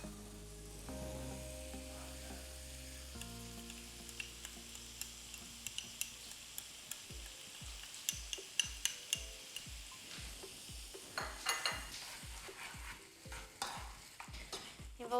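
A spoon stirs meat with tomato pulp in a pan, tapping out a quick, regular run of wooden knocks and scrapes over a faint sizzle, the strokes growing busier toward the end; no one talks.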